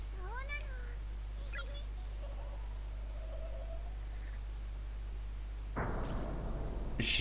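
A cat meows in a pixel horror video game, two short rising meows near the start over a constant low electrical hum, followed later by a louder burst of rushing noise.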